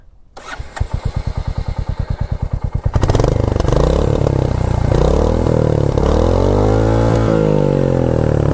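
A Royal Enfield Hunter 350 with a 350cc engine, held in neutral, is cranked with rapid rhythmic chuffs, then fires up close and loud. Its exhaust revs up and down in swelling thumping waves.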